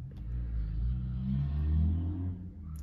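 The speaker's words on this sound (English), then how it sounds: "It's a noisy car outside." Car passing outside, a low rumbling engine drone that swells and fades over a few seconds, muffled and distant, heard from indoors.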